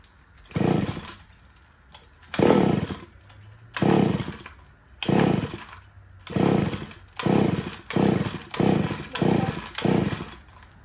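A Molbico chainsaw that has trouble starting runs and is revved in repeated loud bursts, about ten surges dropping back to a low idle between them, close and harsh.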